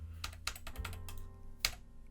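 A computer keyboard is tapped in short bursts of clicking keystrokes, irregular and close, with pauses between clusters and one louder clack near the end, heard alone.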